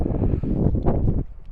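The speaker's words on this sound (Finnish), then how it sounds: "Nyt tuulee." Strong gusty wind buffeting the microphone high up at a rocky gorge, a dense low rumble with surging gusts over about a second, then easing slightly, loud and close with no voices.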